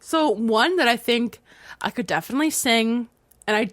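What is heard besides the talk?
No distinct noise like a dog, phone or traffic.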